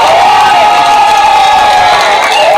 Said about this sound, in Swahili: mwanya muno mwihurirai makofi.